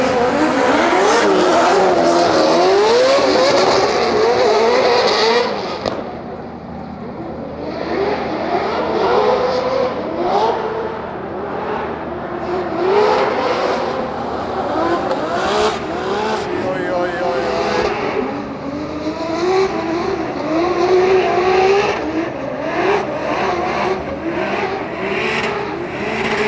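Drift cars at a Drift Masters practice session in Germany, engines revving hard in first gear with tires squealing and skidding, loud and continuous with rising and falling pitch, under a commentator talking over the action.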